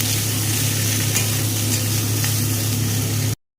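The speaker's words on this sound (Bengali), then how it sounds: "প্রথমেই তেল দিয়ে দিয়েছি, এর মধ্যে সমস্ত এই যে কেটে ধুয়ে রাখা সবজিগুলোকে দিয়ে একসাথে ভেজে নেব।" Chopped, washed mixed vegetables frying in hot oil in a pan, with a continuous loud sizzle and spray of hissing until it cuts off abruptly near the end.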